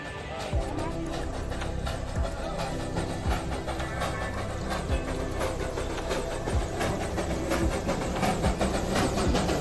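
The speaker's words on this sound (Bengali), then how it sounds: "সেই জয় রাইডের ট্রেনটা আমরা দেখতে পাই বাতাসিয়া লুপে ঢুকতে" The Darjeeling joy ride toy train rolls into Batasia Loop during monsoon, a continuous rumbling, clattering roar with rhythmic chuffing pulses, fairly close and steady throughout.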